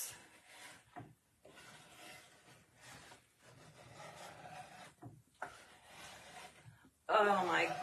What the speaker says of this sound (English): we're just going to use a scraper and we're just going to scrape it up